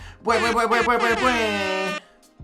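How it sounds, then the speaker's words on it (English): A loud, blaring MLG air horn sound effect holds for about two seconds, with a few stuttering pulses at the start before it sustains and cuts off. "I love using the MLG air horn"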